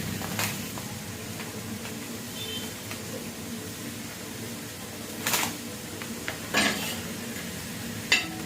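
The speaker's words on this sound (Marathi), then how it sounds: "आता तवा गरम आहे तर शेवया त्याच्यामध्येच भाजून घेते" Vermicelli being dry-roasted on a hot griddle for kheer, with soft steady stirring and scraping broken by a few sharp metal clinks of the spatula, close by, with no talk.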